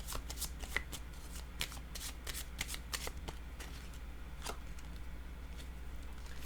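Tarot cards being shuffled by hand, a close run of crisp riffling flicks and soft slaps in an uneven rhythm over a low background hum.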